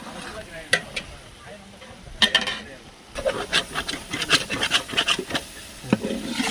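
Rough scraping and rubbing strokes of stirring mushroom biryani masala with chopped ginger in a pan, irregular and close, with a faint sizzle underneath; cooked outdoors in a field.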